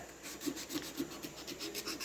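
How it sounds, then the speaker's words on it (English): Rhythmic back-and-forth rubbing of sandpaper on the surface of a Honda ATC recoil pull starter, close and steady, in short even strokes. "it's going to take quite a bit of sanding to get everything all nice and flat"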